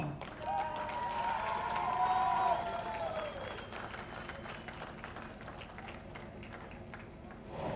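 Loud audience applause and cheering at a TV show launch event, a dense steady wash of clapping with crowd noise, strongest early then easing, while tonal sounds and voices weave through the first half.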